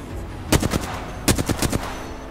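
Two bursts of rapid automatic gunfire from an Apex Legends match, each a quick string of sharp close shots, separated by a short pause and heard with no talking.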